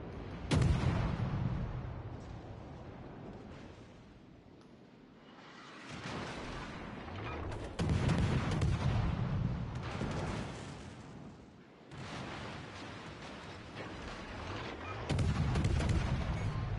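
Destroyer guns firing in World of Warships, heavy booming salvos roughly every few seconds with rumbling tails and a constant battle din between shots, loud and close.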